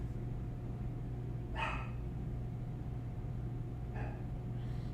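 Dogs bark from somewhere away from the microphone, first a short burst and then two more brief barks a few seconds later, fairly faint over a steady low hum indoors.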